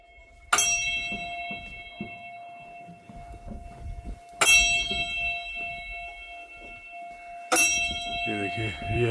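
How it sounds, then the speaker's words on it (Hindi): A prayer wheel bell at a Ladakh monastery rings by itself, struck three times at uneven intervals, each bright clang ringing on with a long metallic tone while people talk underneath. "घंटी अपने आप बज रही है क्योंकि वो सिस्टम बनाया गया है"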